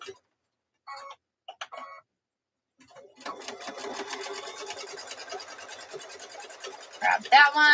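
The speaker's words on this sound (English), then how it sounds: "we're going to stitch a 1/4-inch seam across here" A sewing machine stitching a quarter-inch seam across a quilt block, starting after a few brief sounds and then running as a steady rapid mechanical chatter for several seconds, close by and with no voices over it.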